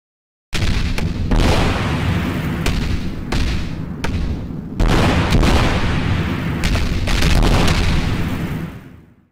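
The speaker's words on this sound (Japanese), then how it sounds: "大きい丸が大爆発、小さい丸が小爆発のような感じでございました" A series of loud, booming synthesized explosion effects, one after another, each with a sharp onset and rumbling tail, some bursts overlapping in a dense barrage.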